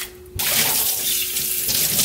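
After a brief quiet moment, a kitchen tap gushes on full and runs steadily while maesaengi seaweed is washed beneath it, with a faint bumping of handling under the flow.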